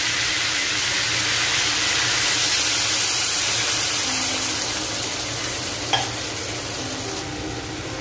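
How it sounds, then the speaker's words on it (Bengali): Spiced cauliflower and potato frying in a pan, sizzling steadily with a bright, constant hiss as water is added, close and alone with no talk. "জল দিয়ে দেবো।"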